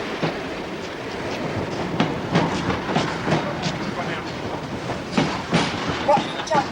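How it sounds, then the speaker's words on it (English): A train rolls into Watford Junction station at platform 8, with rhythmic clickety-clack of wheels over rail joints and a steady rumble, with voices faintly audible in the background. "Train now arriving at platform 8"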